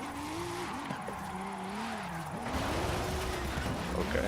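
In a driving game, a Nissan R32 GTR engine drones and wavers as the car slides sideways, with rising tire and road noise in the second half.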